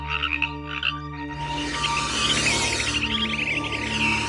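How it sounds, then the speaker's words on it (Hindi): A frog held in a snake's mouth croaks and squeals in distress, with a few short calls followed by a loud, sustained, wavering cry. "एक सांप ने मेढक को पकड़कर मुंह में दबा लिया है, इसलिए मेढक डर के मारे घबरा कर चिल्ला रहा है"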